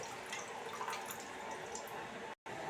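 Tap water runs steadily over a lemon-juiced item in a kitchen sink, a continuous close splashing wash with a brief drop-out near the end.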